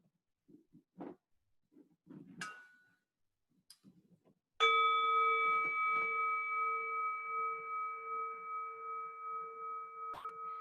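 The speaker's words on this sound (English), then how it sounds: "Let the sound of the bell bring you into the present moment, just by listening to the sound." A mindfulness bell struck once during a seated meditation session, ringing out clear and sustained with a long, slowly pulsing decay after a few faint soft sounds, alone and quiet.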